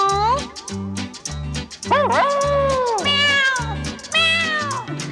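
A cat meowing repeatedly over a bouncy musical beat, the meows rising and falling in pitch.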